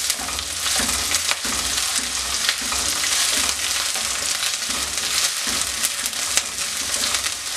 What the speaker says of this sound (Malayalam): പച്ചമുളക് ചേർക്കാം കറിവേപ്പില ഇതെല്ലാം നല്ലപോലെ ഒന്ന് മൂപ്പിച്ചെടുക്കാം